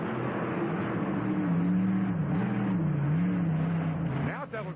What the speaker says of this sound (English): Now it sounds like the motor's locked down, Kev.